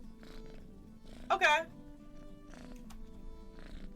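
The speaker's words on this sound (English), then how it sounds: "He begins to purr loudly and rub his head against Tristan's knee." A cat purrs loudly in a steady low rumble, with a brief spoken word and a short tonal burst partway through.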